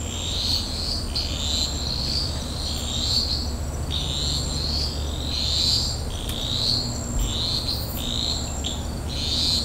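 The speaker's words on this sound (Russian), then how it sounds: "А вот жабы поют." Toads calling at night from trees in an Australian neighbourhood, a steady chorus of repeated rhythmic pulsing calls from several animals overlapping, with a constant insect hum underneath and no talking.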